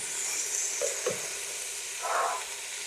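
Cooking oil sizzles in a pan while Saudi-style kabsa is being prepared, a steady, faint hiss with a couple of brief clinks and a soft swell near the end.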